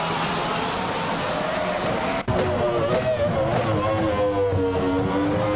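A Benetton B196 Formula One car in a racing video game, its engine droning loud and close in a high, steady whine, with a brief cut midway before the tone picks up again.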